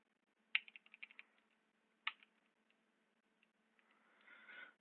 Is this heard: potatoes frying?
no